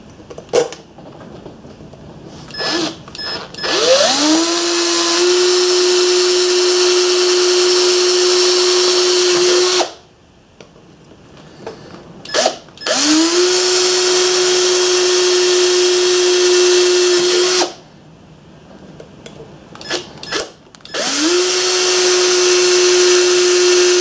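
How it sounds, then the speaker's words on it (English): Power drill boring pilot holes in metal generator parts for a two-cycle 800 watt generator, three long whining runs at steady pitch separated by brief pauses and short trigger blips, loud and close. "So I'm going to go get some holes drilled."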